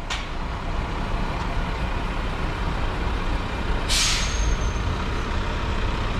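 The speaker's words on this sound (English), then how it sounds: "I think the lorry is blocking the barrier to get in for the personal car park here." A lorry idles steadily near a car park barrier at Heathrow, its engine rumbling throughout. Two sharp air brake hisses stand out, one at the start and a louder one partway through.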